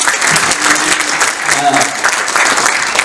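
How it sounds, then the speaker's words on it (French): A French-speaking audience applauds a presenter being introduced at an Autodesk Revit user group gathering. The clapping is loud, dense and continuous, with voices murmuring underneath. "Applaudissez-le."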